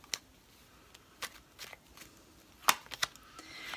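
Tarot cards shuffled and flicked by hand in a quiet room, with a series of short, crisp riffling snaps spaced irregularly and a soft rustle of cards at the end.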